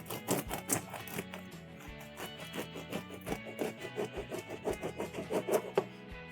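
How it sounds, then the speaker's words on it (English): A knife saws through a loaf of bread, cutting thick slices for orange French toast: steady, rhythmic back-and-forth rasping strokes, close and fairly quiet, with no talking. "So then we want to cut our loaf of bread into about 1-inch thick slices."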